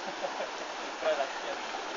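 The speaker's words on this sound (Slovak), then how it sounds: "vidíte tu krásne vodopády" A waterfall rushes in a steady broadband roar, continuous and fairly close, with a brief voice murmuring underneath.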